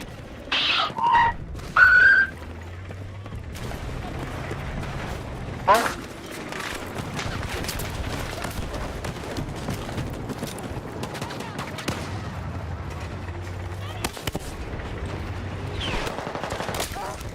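Gunfire in the video game Battlefield 6, scattered bursts and single shots with sharp cracks and occasional booms throughout a busy battle soundscape, with someone talking over parts of it.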